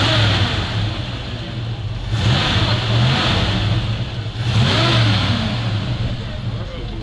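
A vintage car engine revs up and down in repeated surges, a throaty rumble swelling and easing over a steady idle, with voices faintly in the background at a retro car event in Minsk.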